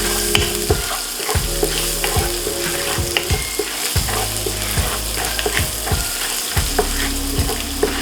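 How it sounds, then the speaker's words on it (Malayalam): Ginger and garlic frying in hot oil for chicken fried rice, a loud, steady sizzle with a rhythmic scrape of a spatula stirring the pan throughout. "അപ്പോൾ നമ്മുടെ ഈ ചൂടായ എണ്ണ ഓൾറെഡി എണ്ണ ചൂടാണ്. നമ്മൾ അതിനകത്തോട്ട് ഈ ജിഞ്ചറും ഗാർലിക്കും ആഡ് ചെയ്ത് കൊടുക്കും ആദ്യം."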